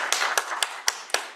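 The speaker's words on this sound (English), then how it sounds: "Let's all give him a big round of applause." A few sharp, evenly spaced hand claps, about five in a second and a half, ring out close and clear at a city council meeting.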